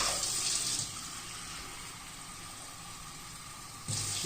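Cups of water are poured into jonna (sorghum) flour for garelu, heard as a quiet continuous splashing stream with brief louder bursts at the start and end, alone with no voices.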